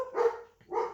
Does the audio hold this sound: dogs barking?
yes